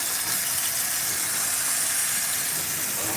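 Tap water runs steadily over a diamond sharpening plate as it is rinsed, a continuous loud hiss and gush with no pauses.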